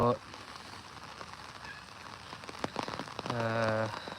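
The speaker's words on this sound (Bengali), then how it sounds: "বৃষ্টির অবস্থা" Rain falls in a village, a soft, steady patter on surfaces. A brief call rises near the end.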